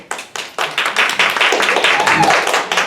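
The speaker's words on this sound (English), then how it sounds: "clap your hands just a little bit." An audience claps along at a show, a steady rhythmic beat of hand claps growing denser and louder over a few seconds, with a few voices mixed in.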